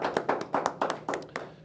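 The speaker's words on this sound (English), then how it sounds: "So a round of applause for this young man right here." Audience applause at an evening community event in El Monte for a young man introduced by an assemblyman, a sparse run of sharp individual claps, close and uneven in rhythm.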